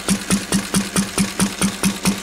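A 1951 Lister D stationary donkey engine runs steadily close by, its loud single-cylinder exhaust firing in an even, rapid chugging beat with a metallic clatter on each stroke.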